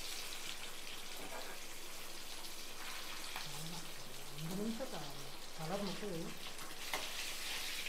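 Soft fish frying in a pan gives a steady broad sizzle throughout, with a voice speaking briefly over it partway through.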